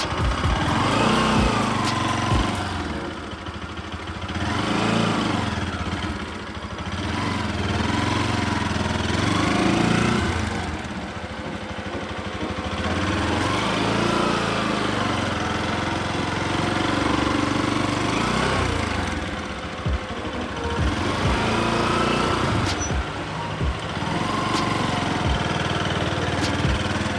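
A motorcycle engine runs steadily and loud throughout, its pitch swelling and dropping as a new rider practices working the throttle, with no talking over the continuous drone.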